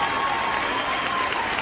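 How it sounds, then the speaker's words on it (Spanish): Sustained audience applause at a live theater celebration marking a year of the show Lagunilla Mi Barrio, dense and even throughout with a steady crowd wash and no pauses. "Así que aplausos para la Villa Mi Barrio"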